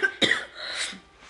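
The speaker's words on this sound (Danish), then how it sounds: "Jeg hoster stadig" A sick person coughs close by indoors: one hoarse, harsh cough followed by a softer rasping breath and a short trailing hack.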